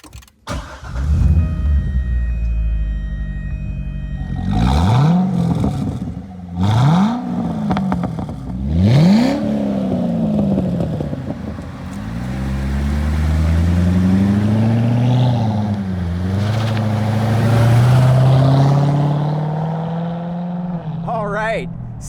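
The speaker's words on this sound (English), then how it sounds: "This will be my first time driving a Grand Sport" C6 Corvette Grand Sport with an LS3 V8 driven top-off, the engine revving up and shifting through several gears in repeated rising pulls, then a long steady acceleration, loud and close, with a voice speaking over it.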